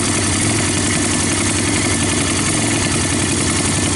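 A Yamaha Bear Tracker 250 ATV engine with a new intake and carburetor, running rich outdoors. It gives a loud, steady, close-up idle drone that stays unbroken throughout.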